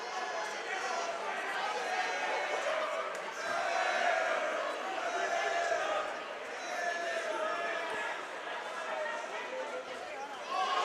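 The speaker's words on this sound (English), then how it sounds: "you can hear the crowd reacting" Crowd noise at a corporate amateur boxing fight night in Sydney, a continuous murmur of chatter and reactions swelling and easing over about eleven seconds, with a commentator-like voice talking throughout.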